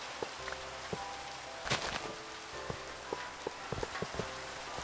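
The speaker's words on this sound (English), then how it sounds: "The rain on the iron? I've never heard that before." Rain falling on iron blocks in Minecraft, a patter of small metallic taps and ticks at an irregular rhythm over a soft hiss of rainfall, fairly quiet and close.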